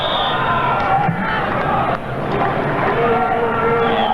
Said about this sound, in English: Not a bad crowd on hand, an enthusiastic crowd certainly.